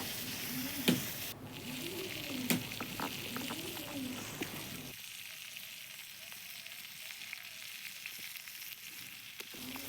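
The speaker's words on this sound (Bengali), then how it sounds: "আর কিছুটা আলু আছে, এটা দিয়ে নেব। এটাও ভালো করে ভেজে নেব।" Potatoes fry in a pan with a steady sizzle, broken by a few sharp scraping strokes of stirring early on; the hiss softens partway through and keeps going, close and moderately loud with no talking.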